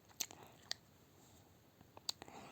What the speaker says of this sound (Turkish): bu arada sakız çiğniyorum